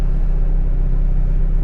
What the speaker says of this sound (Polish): No i tak odpalamy auto, żeby trochę pochodziło